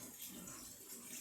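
Water overflowing a strainer set on top of a pot and draining through it, a soft, steady trickling rush heard faintly for a moment.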